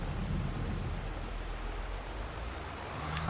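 Steady rain falls in a Farming Simulator 22 game on the Elmcreek map, a dense, even hiss with a low rumble beneath it, continuous throughout with no talk.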